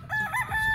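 A yellow-legged Sweater Gilmore Pico gamefowl rooster on a game farm lets out a short, moderately close crow, a brief tonal burst standing alone without voices.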